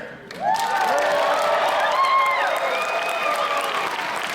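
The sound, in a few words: applause and cheering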